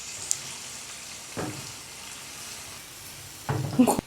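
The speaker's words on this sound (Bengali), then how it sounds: "এখন এই সব কিছু একসাথে মিক্স করে দিচ্ছি" Shrimp curry simmering in a pan as sugar, coriander powder, fish sauce, soy sauce and tomato sauce are mixed in; a faint steady sizzle with a couple of short stirring scrapes, louder toward the end.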